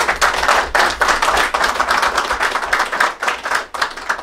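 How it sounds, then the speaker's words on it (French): An audience at a political gathering applauds two people being introduced, with loud, close hand claps that come in uneven bursts and surges over a few seconds. "Vous pouvez les applaudir"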